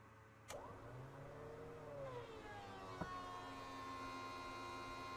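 Cockpit fans in a Cirrus SR22 from a Microsoft Flight Simulator sound pack, a steady electrical hum with tonal whine, joined by a couple of clicks and a rising switch-on tone partway through.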